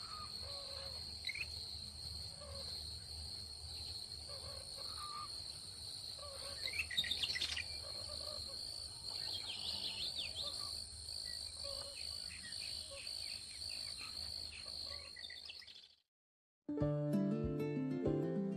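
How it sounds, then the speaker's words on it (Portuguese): Birds and insects call through a Louisiana swamp, a steady high cricket-like drone under scattered bird chirps and tweets, continuous and moderately loud before a short silence and a brief different ending. "Aqui há muitas aves, mas os principais ocupantes dos pântanos são os jacarés"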